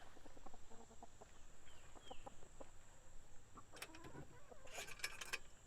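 Backyard chickens clucking around a store-bought coop in the morning, a scatter of soft, close clucks and chatter over a steady high background hum, with a louder burst of calls near the end.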